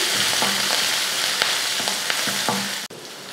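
Garlic and green chilies fry in a pan with a steady close sizzle, while a spoon scrapes and taps the metal in several rhythmic strokes before a sudden brief drop-out near the end.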